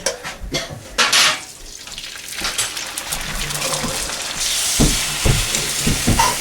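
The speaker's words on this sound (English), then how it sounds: "Now I'm going to stir them up and then scramble them." Eggs with milk, salt and pepper are stirred and scrambled in a pan for a country breakfast, with a utensil clattering against the pan, wet churning and a rising sizzle as they cook.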